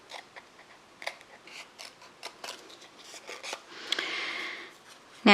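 Scissors cut through folded paper for a stained glass kaleidoscope pattern, giving a close series of crisp snips in an uneven rhythm that ends in a longer rasping cut, with no talking.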